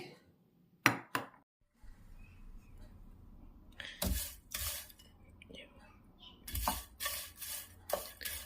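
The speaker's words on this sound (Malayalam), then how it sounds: "ഉണക്കച്ചെമ്മീൻ ചമ്മന്തി ഉണ്ടാക്കാൻ നമുക്ക് ആദ്യം ഈ ചെമ്മീൻ ഒന്ന് കഴുകി നന്നായിട്ടൊന്ന് വറുത്തെടുക്കാം." Dried shrimp being dry-roasted in a pan for a chutney powder gives soft scraping and stirring rustles, with sharp clinks of a utensil against the pan now and then in a quiet kitchen.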